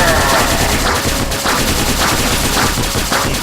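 Rapid gunfire in the side-scrolling action game 20XX, loud repeated shots in quick bursts with a rhythmic pulse of blasts and faint game effects behind.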